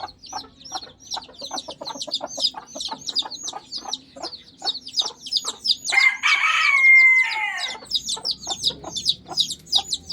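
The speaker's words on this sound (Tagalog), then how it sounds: "Tatlong inahin nga pala ngayon yung may sisiw na napisa." Bantam hens and newly hatched chicks in a coop give a steady stream of high, rapid peeping, with a brief louder squawk partway through and soft clucks underneath.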